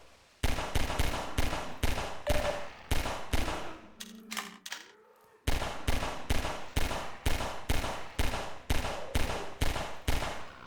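Pistol shots in Half-Life 2, a steady rhythm of sharp, loud cracks fired one after another, with a short pause near the middle before the regular firing resumes.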